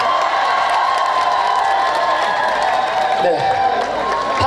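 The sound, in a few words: festival crowd cheering and clapping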